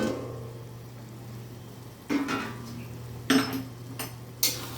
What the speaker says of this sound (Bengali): পাঁচ মিনিট পরে ঢাকনাটা আমি এবার খুলে নিচ্ছি